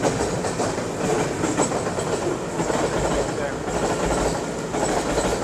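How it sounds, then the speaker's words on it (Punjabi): Goods train passing close by a roadside dhaba in Pakistan, a loud continuous rumble of rolling wagons with rhythmic clickety-clack of wheels over rail joints; people talk over it. "ਮਾਲ ਗੱਡੀ"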